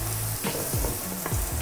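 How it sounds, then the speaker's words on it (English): Onions sizzle and crackle steadily in a hot frying pan, with a few scraping stirs breaking in at intervals; close and fairly loud, no voices. "if you can see bubbles sizzling, just move it around"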